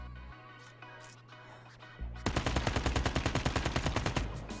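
An AK rifle fires in Call of Duty Mobile. A loud, rapid stream of full-auto shots starts after a couple of seconds of quieter background game sound and runs steadily to the end.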